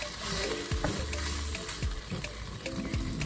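Minced meat sizzles steadily in melted butter in a pan, a close, continuous frying hiss broken by a few scraping stirs.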